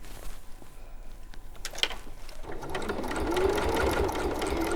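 A sewing machine stitching a quilt, with quiet handling noises first, then a steady close mechanical whir of fast needle strokes that keeps running to the end.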